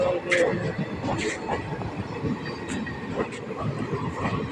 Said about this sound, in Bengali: দেখলা কত লম্বা ট্রেন